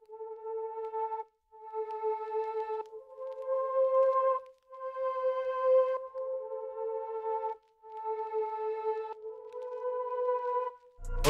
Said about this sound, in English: Next thing I've added was this sad dark choir from Omnisphere that sounds like this.